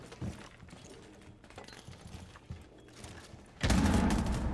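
Scattered gunshots pop during a tense Rainbow Six Siege X round, sporadic and moderately distant at first, then a loud, sustained burst of fire near the end.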